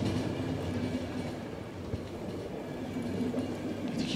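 A train running in the post-apocalyptic video game The Final Station, a steady rumbling rattle of wheels and carriages heard close and continuous, with faint rhythmic clacking and no voices.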